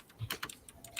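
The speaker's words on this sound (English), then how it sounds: "And there go the keyboard." Quick bursts of typing on a computer keyboard, a handful of light, irregular key clicks, faint and close, with no talking.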